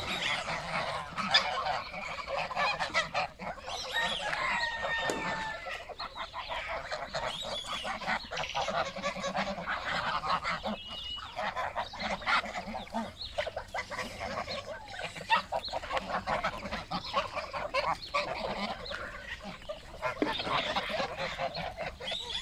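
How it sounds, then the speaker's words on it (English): Pilgrim geese, rescued birds in a Western Cape enclosure, honk loudly and repeatedly in an overlapping chorus, with calls from several birds layered close by throughout. "a little bit of the pilgrim goose to start with"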